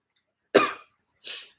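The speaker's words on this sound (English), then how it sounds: "I've got this cough." Two sharp, close coughs from a person, a heavy, rough first burst and a lighter, breathier second one after a short pause, with silence around them.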